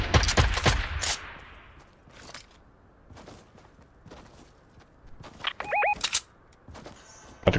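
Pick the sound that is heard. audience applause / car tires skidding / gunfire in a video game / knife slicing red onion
gunfire in a video game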